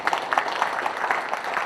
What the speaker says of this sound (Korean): 저분들한테 일단 박수 한번 부탁 좀 드리도록 하겠습니다